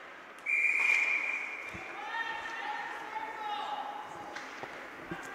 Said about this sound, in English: We heard a whistle for something, not sure what about, but we heard a whistle.